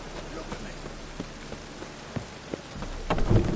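Rain in the video game The Witcher 3: Wild Hunt, a steady patter of drops with scattered sharper splashes and a low rumbling swell near the end.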